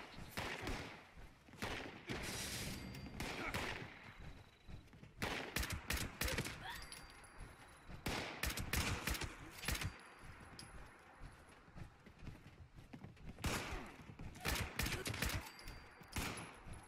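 Fallout 76 gameplay gunfire bursts out in rapid volleys of sharp shots. Clusters of cracks come in quick bursts, then pause briefly between them, and stay loud and close across the whole stretch.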